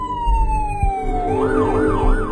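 A nearby police car siren sounds loudly, first a long gliding tone that sinks slowly, then a quick rising-and-falling wail repeating over road noise.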